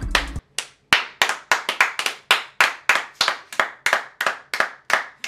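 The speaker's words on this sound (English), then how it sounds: "Can't talk over all your clapping." A small group clapping in a steady, even rhythm, about three sharp claps per second, close and loud, with a brief low voice at the start.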